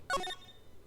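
Short electronic cell phone ringtone from the Phoenix Wright: Ace Attorney video game, a single bright chiming burst lasting a fraction of a second, then a faint lingering tone.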